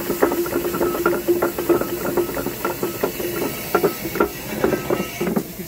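A Reid steam windlass engine runs and reverses, giving a rhythmic chuffing and clanking beat with hissing steam and a steady mechanical rattle, close and moderately loud.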